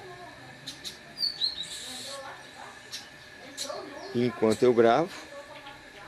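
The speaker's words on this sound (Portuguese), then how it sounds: "os pássaros cantam aqui" Garden birds chirp and tweet near a feeder, scattered short high calls that come and go, fairly faint at moderate distance, while a person speaks nearby over them.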